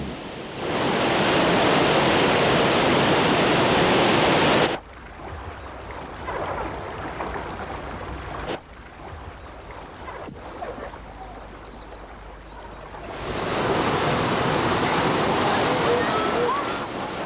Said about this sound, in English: This is Murchison Falls, one of many natural wonders that alone would make Uganda worth a fortnight of anyone's time.